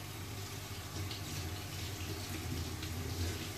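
Steady running tap water washing food in a sink, a continuous close hiss with a low rumbling undertone, no talking over it.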